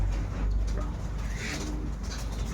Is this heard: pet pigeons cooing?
yes